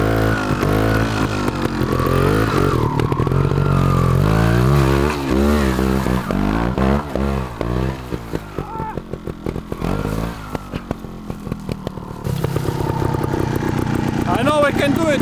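A Gas Gas TXT 280 trial bike climbs a grassy hill over soft sand at low speed, its engine revving and bogging continuously and loudly up close, with a voice talking over it.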